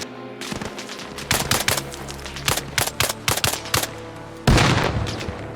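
Rapid bursts of gunfire from the video game Arma Reforger ring out in a quick, irregular string of sharp shots, followed by a heavier, louder blast near the end.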